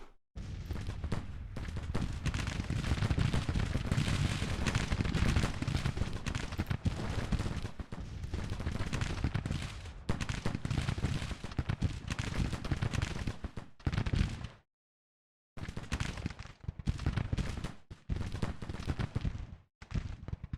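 Long-range rifle volleys in the Civil War strategy game Grand Tactician, a thick, sustained crackle of distant musketry that rolls on continuously, briefly drops out to silence, then resumes more sparsely.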